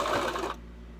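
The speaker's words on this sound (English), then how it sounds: "I take it slow to where I can make sure that it's sewing good." A Brother LS2400 sewing machine runs briefly, sewing a swimsuit coverup with a quick, close mechanical whir that stops after half a second and leaves a low hum.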